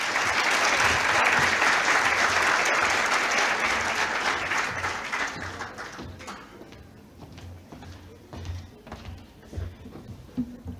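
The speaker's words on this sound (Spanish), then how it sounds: "Un aplauso a Juan." Audience applause at a workplace seminar on psychosocial risk factors, loud dense clapping from a room full of people that gradually thins out into scattered claps over about ten seconds.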